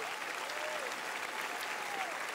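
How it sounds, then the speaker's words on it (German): Steady applause from a TV studio audience on a German Sunday variety show, a continuous, even roar of clapping heard at moderate distance, with faint whistles or cheers rising briefly within it. "Einen riesen Applaus nochmal"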